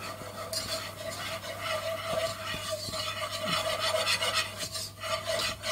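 Moussaka mixture stirred in a pan over low heat, a steady rasping scrape of the utensil with faint sizzling underneath and a few soft knocks, close and without talk.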